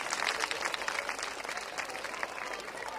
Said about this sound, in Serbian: E, zbog toga još jedan aplauz mora